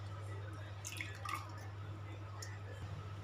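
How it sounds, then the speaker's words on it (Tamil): Grated potato is rinsed in water for the third time to wash out the starch, producing soft splashing and dripping sounds over a steady low electrical hum, faint and close. "ஒரு 2 தடவை அலசின பிறகு இது 3ஆவது தடவை அலசுகிறேன்."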